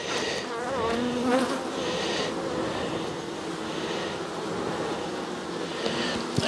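Honeybees buzz in a dense, continuous drone from an open hive during a late-season colony check, a close and steady swarm hum filling the whole stretch with a few louder individual bees passing near.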